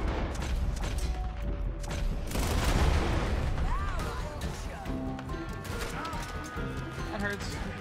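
Gunshots crack in Red Dead Redemption 2, a Western video game, as several sharp reports and crashes rise over a busy soundscape while voices talk throughout.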